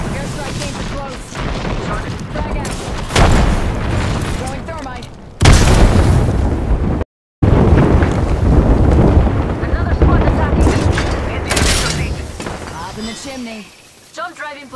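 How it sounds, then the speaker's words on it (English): Airstrike explosions in the video game Apex Legends on Xbox Series X: heavy booming blasts and rumbling debris fill the mix almost continuously, loud and close, with one brief dropout midway and voices talking over the action. "Airstrike came too close."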